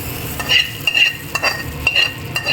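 Hot ghee tempering crackles and sizzles loudly in a pan, with bursts of spitting and a scraping stir, no talking.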